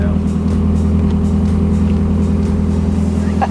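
A Nissan project car's engine running steadily as the car moves, a loud low droning hum with a constant rumble throughout, close by.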